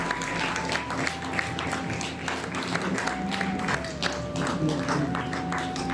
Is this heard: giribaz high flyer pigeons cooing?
no